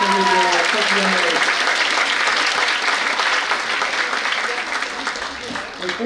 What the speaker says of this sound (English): Can we give Emily one more round of applause?